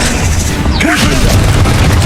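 Confringo blasting spell cast in Hogwarts Legacy: a sharp booming burst with a sweeping whoosh near the middle, set against dense, continuous game noise.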